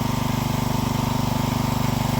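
Engine-driven pump of a pesticide sprayer running on a farm, a steady, loud mechanical drone with a fast regular chug, continuous and close, with no talk over it.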